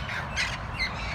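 A wild flock of parrots squawking in San Diego, with harsh, overlapping screeches rising in two bursts over a constant noisy background.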